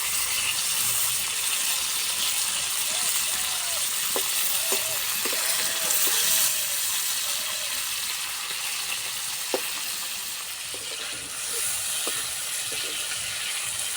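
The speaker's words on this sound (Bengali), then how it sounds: "বেশি ভাজবো না, হালকা লাল করে ভেজে নেব।" Prawns, some still carrying roe, fry in hot oil in a pan until lightly reddened, giving a steady broad sizzle with soft stirring scrapes and a few sharp ticks, close and fairly loud without any talk.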